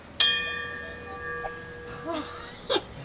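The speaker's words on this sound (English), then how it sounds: "We ring the bell to segue to start cooking." A single bell rings at the start of a cooking session on a Blackstone griddle, one bright struck tone that rings out and decays over about a second, followed by faint sounds.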